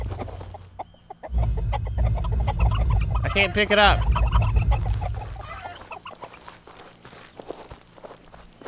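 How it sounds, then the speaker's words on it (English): A chicken clucks in the video game Bandit Brawler, with loud repeated clucks and squawks over footstep sounds in a town area, while a player briefly speaks over them. "It's a chicken."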